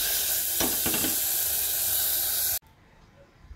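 Katla fish curry with potato and pointed gourd sizzles loudly in the pan, a dense, steady hiss lasting over two seconds before it cuts off abruptly, leaving faint low background noise.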